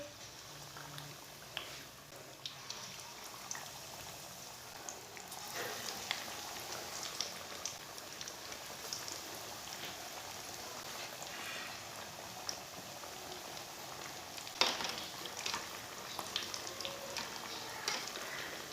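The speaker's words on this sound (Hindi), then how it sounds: "ऑयल हमारा गर्म हो चुका है। अब इसे फ्राई कर लेंगे।" Potato donuts deep-frying in hot oil give a steady, dense crackle and sizzle throughout, with scattered pops and a brief louder burst near the end.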